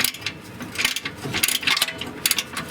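Ratcheting wrench working on the exhaust flange of a 1994 Mazda Miata, a close series of quick metallic clicks and faint scraping bursts over about three seconds.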